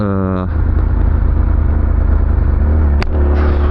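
A 2020 Yamaha R6 motorcycle engine runs nearby, a loud, steady rumbling idle with a fast pulsing throb, a brief clack partway through, and a short rising tone at the start.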